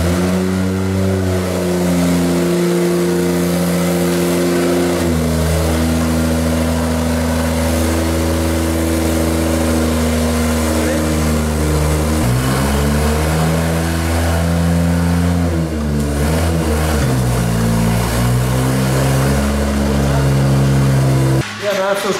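A Nissan S14 with a 1JZ engine, running close by and loud, settles into a steady idle and then climbs through repeated revs, the engine note sweeping up and falling back several times.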